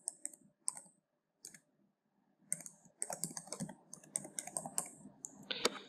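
A username and password being typed on a computer keyboard, close and crisp: a few isolated key clicks, a pause, then a quick burst of rapid keystrokes with no one speaking.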